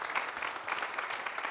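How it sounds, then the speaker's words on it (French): Studio audience applause for a man called up to the microphone on a TV entertainment show, a brief, soft, continuous patter of clapping heard from a distance. "Je vais demander des applaudissements pour ce monsieur"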